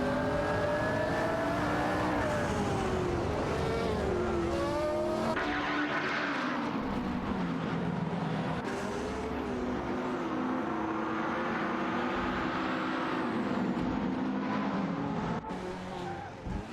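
Race cars from a racing video game, including a Fittipaldi S7, roar continuously with rising and falling engine pitch as they accelerate and shift. Tire squeal and skidding cut in near the end.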